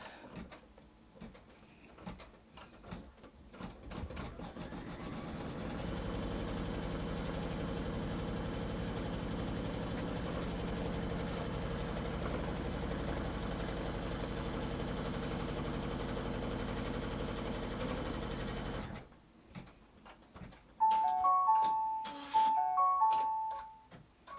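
An embroidery machine stitching a block in the hoop, a steady mechanical whir and rapid ticking of the needle running continuously for about thirteen seconds, framed by quieter clicks and handling noises, with a few beeps near the end.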